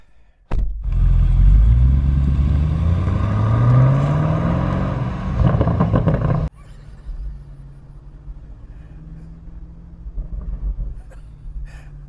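A BMW M850i convertible V8 engine revs and accelerates loud and close for several seconds with a rising roar. It then cuts to a quieter, steady low rumble at cruising speed.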